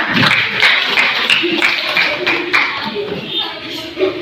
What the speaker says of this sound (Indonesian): Tepuk tangan dulu buat Arif.